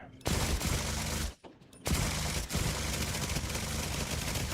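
Turret gunfire in The Division 2 hammers in continuous rapid bursts, fairly close, broken by a brief pause before resuming as a steady stream of shots.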